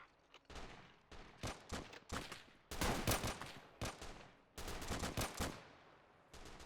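Infantry firefight in the video game Call To Arms: dense bursts of rifle and machine-gun fire come in repeated volleys, loud and close, separated by brief pauses, with no talking over them.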